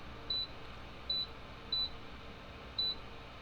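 A space heater's timer buttons being pressed give four short, evenly spaced electronic beeps, clear and close over a quiet background.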